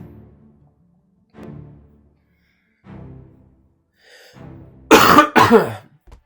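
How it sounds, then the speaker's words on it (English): A person coughs and clears their throat in a quiet room, with a few muffled low throat sounds spaced apart before two sharp, loud coughs close together near the end. "Apologies for the coughing."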